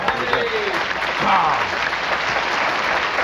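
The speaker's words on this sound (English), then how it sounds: "Can we have a round of applause for John?" A crowd applauds with steady, dense clapping throughout, mixed with a few voices talking over it.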